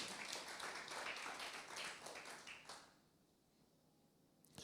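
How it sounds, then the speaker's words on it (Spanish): Church congregation clapping in unison during a sermon, a burst of fairly faint, steady applause that tapers off and gives way to near silence after about three seconds. "Denle un aplauso a Jesucristo."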